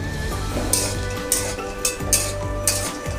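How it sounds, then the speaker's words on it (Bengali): Cashews and peanuts fry in ghee in a pan, a soft steady sizzle broken by several sharp scraping clinks of a spoon stirring against the metal, close and with no talking. "এ জায়গায় আমি আর 2 চামচ ঘি দিচ্ছি। আমি কটা কাজু বাদাম আর দিচ্ছি অল্প কটা চীনা বাদাম।"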